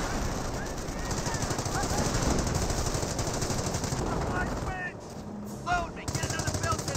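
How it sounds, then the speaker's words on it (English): .30 cal machine gun fire in the Company of Heroes video game, a rapid continuous rattle sustained for several seconds, briefly dipping near the end, with a commentator talking over it. "Up north, we do have the .30 cal engaging the MG42s."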